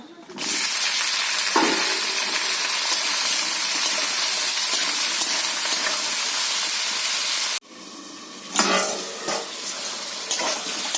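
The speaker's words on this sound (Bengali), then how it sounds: "বন্ধুরা, আমি লাউটা প্রথমে ভেজে নেব।" Pieces of bottle gourd fry in hot oil in a wok, giving a loud, dense, continuous sizzle that cuts off sharply, followed by a few close scrapes and knocks of a utensil stirring.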